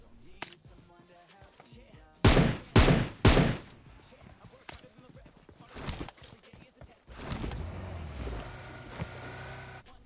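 M762 rifle fire in PUBG Mobile on the new Erangel map: a few sharp, loud shot bursts in quick succession, with scattered quieter clicks and game noise around them and a rumbling stretch afterward.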